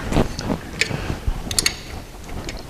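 Ratchet wrench clicking as it undoes the two half-inch AF bolts securing a fuel pump on a B18/B20 engine, a few close bursts of rapid ratcheting with short pauses between.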